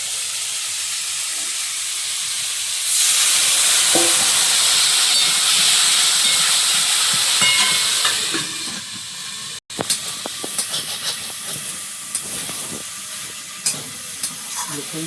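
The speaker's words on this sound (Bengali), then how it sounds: "কচুটা ভালো করে কষিয়ে নিচ্ছি" Taro sautéing in a pan with turmeric: a steady loud sizzle swells in after a few seconds and holds, then gives way to scraping, clattering stirring strokes against the pan.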